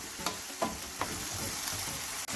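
Beef sizzles and fries steadily in a hot pan after soy sauce goes in, a dense continuous crackle with a few brief stirring scrapes, close and fairly loud with no talking.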